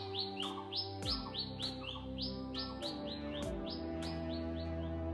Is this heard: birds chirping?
yes